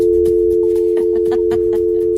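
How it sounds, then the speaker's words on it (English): A loud, steady telephone dial tone hums continuously throughout, with faint clicks and handling noises over it, heard on a morning radio show. "You just get straight dial tone."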